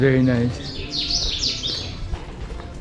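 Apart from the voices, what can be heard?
birds chirping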